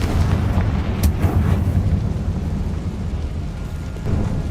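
A Confringo blast spell in Hogwarts Legacy erupts as a loud, deep explosive boom followed by a heavy rumbling roar that slowly fades.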